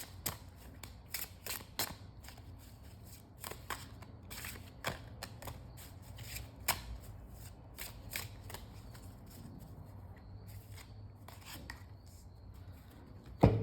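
Repeated crisp riffling and flicking of a floral oracle card deck, irregular bursts of shuffling with soft rubbing between, close up and without talk.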